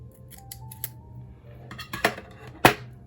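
A few quick scissor snips cut a planner sticker in half at a desk, soft papery rustles first and then two or three sharp close clicks near the end.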